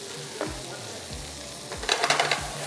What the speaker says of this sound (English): I'd probably call it 2 tablespoons chopped fresh garlic in the pan.